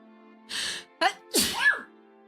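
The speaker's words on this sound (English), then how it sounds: "I sneezed." A person sneezes indoors during a gaming session, a sharp two-part burst with an intake and explosive release, followed by a short vocal exclamation, close and fairly loud.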